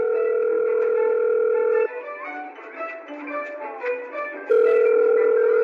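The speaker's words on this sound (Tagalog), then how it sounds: "Ayan, nagri-ring na." A telephone rings on an outgoing call, heard from the caller's side as a steady, clear tone. The tone breaks into shifting beeps, then returns, alone with no voices.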